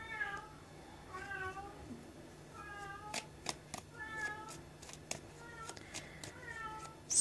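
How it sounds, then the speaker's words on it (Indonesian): A cat meows several times at close range, with rising and falling cries spaced a second or so apart and a few soft clicks between them, fairly quiet overall. "Kalau kamu dengar suara kucing"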